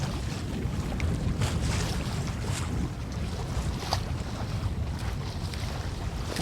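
A sailboat beating towards rocks in a Greek marine park, with steady wind rush and water wash against the hull, continuous and fairly loud.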